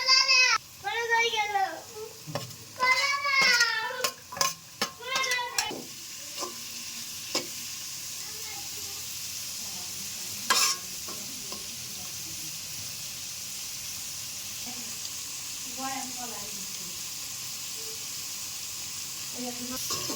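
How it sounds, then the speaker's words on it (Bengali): Egg and capsicum stirred and frying in a pan for chicken fried rice, a soft sizzle with spatula scrapes under a voice for the first few seconds, then quieter frying continuing mostly alone. "এই দেখুন কিছুক্ষণ পর পর এমনভাবে নেড়ে চেড়ে দিব"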